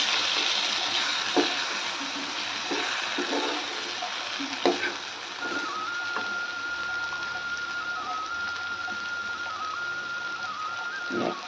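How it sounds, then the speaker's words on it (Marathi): Ridge gourd sautéing in a pan on a gas stove, a steady, even sizzle with occasional stirring clatter and a faint high tone entering partway through. "आपण घेतलेली दोडकी त्याला छान परतून घेऊया"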